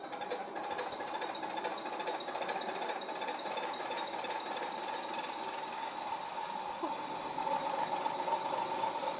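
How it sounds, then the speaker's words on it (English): A MINI12PSB diesel injection pump test bench runs while testing a mechanical pump, giving a steady, fast mechanical clatter and whine at constant level with no speech. "testing mechanical pumps on our MINI12PSB diesel injection pump test bench"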